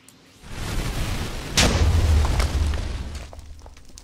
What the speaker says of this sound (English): I want to shoot a massive fireball up there